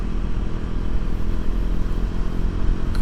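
A KTM RC 125 is ridden with a steady, droning engine and a constant low rumble, heard up close with wind noise and no talking.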